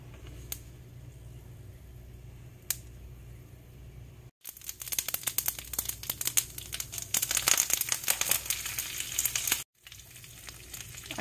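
Curry leaves and mustard seeds sizzling in hot oil for okra sukka with coconut: a quiet crackle with a few pops, then a sudden loud burst of spitting, crackling sizzle that cuts out briefly and resumes, close with no talk.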